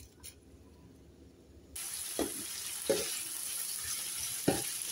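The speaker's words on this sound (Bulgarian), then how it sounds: "разбъркваме добре лука и започваме да го пържиме" Chopped onions hit a hot pan with a sudden loud sizzle that then holds steady, broken by a few scraping stirs.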